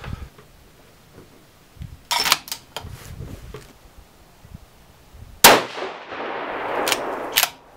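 A single sharp report from a 6.5x47 rifle with a tuner on the muzzle, fired from a clean, cold barrel, preceded by faint handling clicks and followed by a brief ringing decay.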